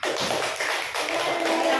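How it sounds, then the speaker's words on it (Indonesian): A classroom of children clapping together after a group presentation on a food chain, a steady patter of many small hands filling the room, fairly loud and continuous without talk. "Beri tepuk tangan, Nak."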